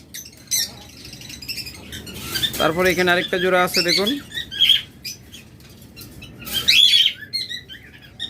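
Pet blue opaline birds chirp with scattered, bright, short calls, fairly close, mixed under someone talking throughout.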